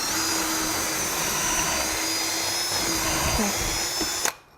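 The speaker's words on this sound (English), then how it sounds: "we're going to go ahead and pre-drill out just this one side here" A power drill whirs loudly and steadily for several seconds as it pre-drills wood for an anvil swage block stand, its pitch shifting slightly as it bites in, then cuts off abruptly.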